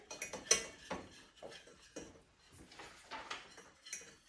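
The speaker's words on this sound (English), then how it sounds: "get back to stirring my butter, milk, and flour mixture" Butter, milk and flour mixture being stirred in a pan, a utensil scraping and clinking against the pan in an uneven rhythm of soft taps and scrapes, close and quiet.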